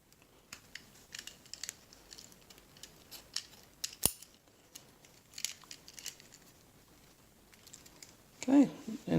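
A car key being fitted onto an Orbitkey 2.0 key organizer: faint metallic clicks, scratches and small taps come in scattered bursts, with one sharp snap midway and louder handling at the end.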